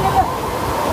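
Aagayagangai waterfall in the Kolli Hills pouring down with strong force, a steady dense roar of rushing water with no break across the short moment.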